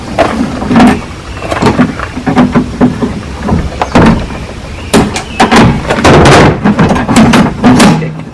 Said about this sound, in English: So what I mean by bent, if the door got bent like so,